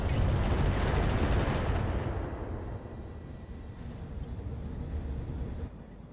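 Mech weapons firing in Roguetech, a modded Battletech game: a loud, dense barrage of blasts and rumbling impacts that thins gradually into a lower, sustained roar with faint high tones.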